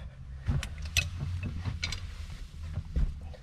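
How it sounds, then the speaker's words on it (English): Small screws are worked loose from a headliner panel inside a Land Rover Discovery 1, with close, quiet clicks and creaking mechanical ticks from the screwdriver and plastic trim. "it has two screws in here, so we need to take those off"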